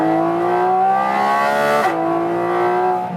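A Porsche 718 GT4 RS on a race track gives a loud, close engine roar that rises steadily, drops sharply at a gear change, then climbs again at high revs.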